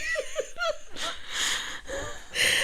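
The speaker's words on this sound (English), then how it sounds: "I wheeze when I laugh" Laughter broken by wheezy, gasping breaths, with short rhythmic wheezing pulses at the start and then airy, strained inhalations. It is close and fairly loud, and no words are spoken.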